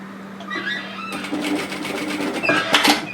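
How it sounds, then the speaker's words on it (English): A sewing machine tack stitches the bottom stop of a zip on a varsity bomber jacket, a brief rapid run of needle clatter over a steady low motor hum, fairly close and loud. "I'm putting that bottom stop on the notch fold and I'm going to tack stitch this in"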